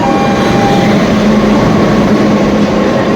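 The Haridwar Express rumbles loudly and steadily, a dense, unbroken low roar of the moving train heard close up.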